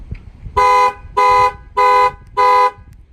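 A Ford Transit van's aftermarket security alarm, triggered by the remote's panic button, blares four loud, evenly spaced horn-like honks close by, with short gaps between them.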